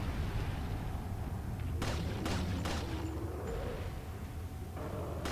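Several sharp gunshots fired in Resident Evil 4 at a boss enemy, three close bursts in quick succession followed by a later shot, heard over a steady low game-ambience rumble.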